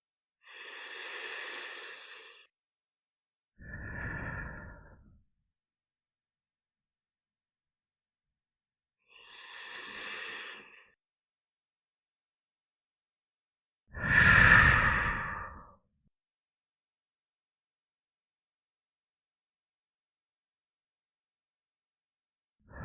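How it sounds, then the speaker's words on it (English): Slow deep breaths in and out, alone in a quiet setting, each long and soft with silent pauses between them. "taking 3 deep breaths"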